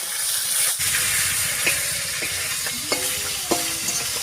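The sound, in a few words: live magur catfish sizzling in hot oil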